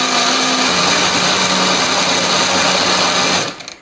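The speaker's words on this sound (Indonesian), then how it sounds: "semua bahan ini akan kita haluskan ya, termasuk lengkuasnya akan kita haluskan" A kitchen blender grinds ginger, galangal and curly red chilies with a little water into a paste, a loud continuous whirring motor that cuts off abruptly at the end.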